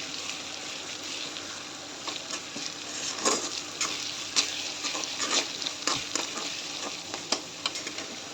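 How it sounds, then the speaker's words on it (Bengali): Sponge gourd curry sizzles as it is sautéed and stirred in a pan. A steady frying hiss carries repeated scraping and clinking stir strokes, close by and fairly quiet, with no talking. "ঝাঁকানাকা করে এই যে কষিয়ে নিচ্ছি"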